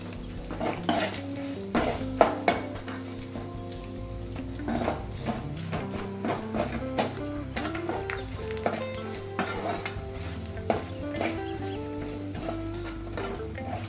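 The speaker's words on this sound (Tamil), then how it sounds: "உப்பு கண்டம் நல்லா எண்ணெயிலே பொரிஞ்சதுன்னா நல்லாயிருக்கும்." Salted dried meat (uppukandam), pounded flat, frying in hot oil with a steady, dense sizzle, broken by frequent clinks and scrapes of a utensil stirring against the pan.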